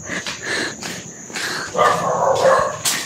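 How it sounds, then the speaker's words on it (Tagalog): A dog barks in a few short, sharp bursts at moderate distance near a cemetery, with light outdoor background noise and no talking. "Uy, may aso."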